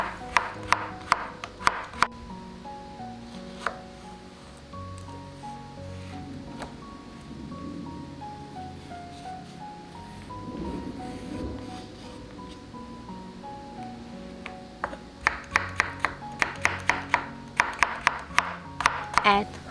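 Knife slicing a cucumber on a board, with a quick run of crisp, evenly spaced chops at the start and another dense burst near the end, a quieter stretch between under soft background music.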